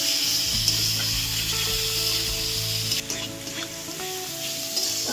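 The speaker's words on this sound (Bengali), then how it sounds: "টমেটো আছে আমি একটা কেটে রাখা টমেটো এবার ভালো করে আমি মশলাটাকে কষে নেব" A spice masala with chopped tomato fries and is stirred in a pan for a fish curry, giving a continuous close sizzle broken by scraping and stirring strokes.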